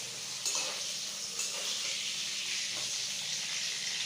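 Pointed gourd (potol) frying in a pan, a steady bright sizzle and hiss in oil that carries on evenly, with a few faint clinks and stirring sounds and no talking.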